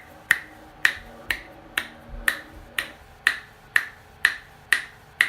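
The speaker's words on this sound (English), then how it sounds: "so I'm just snapping my fingers" Eleven crisp finger snaps at a steady, even pace, close and clear against a quiet background with a faint hum.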